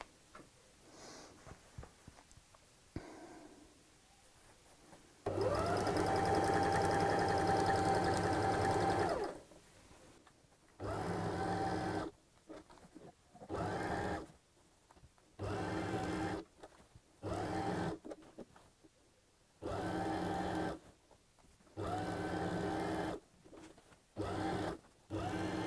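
A domestic sewing machine stitches around the top of a fabric tote bag slid over the free arm, running in one long burst and then a series of short, evenly spaced bursts with brief pauses between them.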